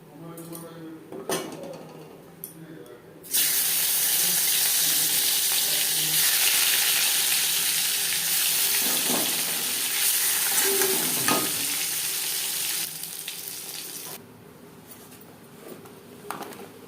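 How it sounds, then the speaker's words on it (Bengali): Katla fish frying in a kadai that was not heated enough, a loud continuous sizzle with occasional stirring and utensil clinks, set between moments of quieter kitchen sound. "কড়াই যদি ঠিকঠাক গরম না হয় মাছ কড়াইতে লেগে যাওয়ার সম্ভাবনা"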